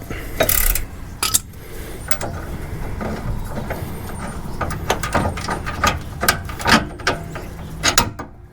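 Loud ratcheting and grinding metal clatter comes from a tight bolt being forced out of a Jeep Wrangler suspension near the sway bar, with repeated uneven mechanical clicks and creaks close by.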